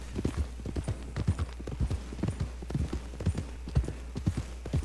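Hooves of a blue roan Nokota horse in Red Dead Redemption clip-clop at a steady gallop, with rhythmic, fairly close thuds continuing throughout at moderate volume and no talk.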